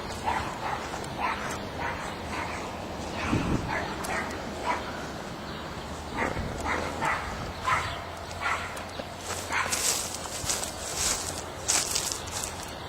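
Dogs bark and yip by a fence outdoors, a series of short, moderately loud barks at some distance, with scattered whimpers and light footsteps.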